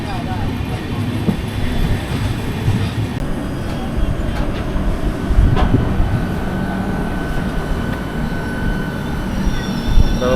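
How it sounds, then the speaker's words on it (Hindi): Karnataka Sampark Kranti sleeper-class train running along the tracks, a continuous loud rumble with wheel squeal and rhythmic clatter heard from inside, scattered clanks throughout and occasional voices. "अभी हम ओवरटेक कर रहे हैं पंजाब मेल को।"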